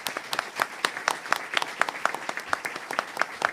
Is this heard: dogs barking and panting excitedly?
no